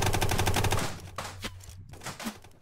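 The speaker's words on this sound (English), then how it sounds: "We're getting shot at." Gunfire in a video game: a rapid burst of automatic fire for under a second, followed by a few scattered fainter shots and thumps.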